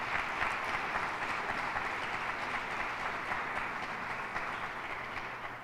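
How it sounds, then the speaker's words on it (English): Steady audience applause at a governor's public safety press conference, a dense wash of clapping holding evenly throughout at moderate level with no voices over it. "Give her a round of applause."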